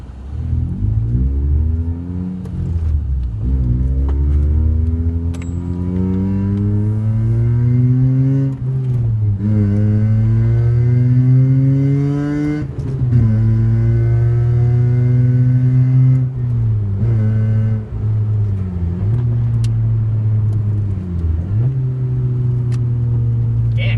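A Mazda RX8 rotary engine revs through the gears while driving, with rising pitch sweeps broken by smooth downshifts, loud and steady from inside the cabin for over twenty seconds.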